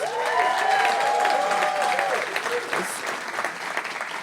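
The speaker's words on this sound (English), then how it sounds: "Can we give Natalia another round of applause?" An audience at a startup pitch competition breaks into sustained applause, a dense wash of clapping from a crowd, with a voice heard over it during the first half before the clapping thins out.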